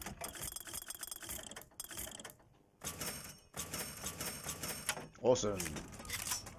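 A weapon reloading in BioShock Infinite: a run of mechanical clicks and ratcheting clacks in short bursts separated by brief gaps, with a voice speaking briefly over it.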